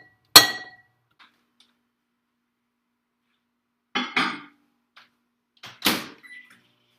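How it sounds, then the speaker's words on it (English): A knife jabs repeatedly into solid coconut oil in a glass container, giving three sharp clinking, scraping bursts with quiet gaps between them, close and fairly loud, with no talking. "Just kind of casually stabbing my coconut oil with a knife."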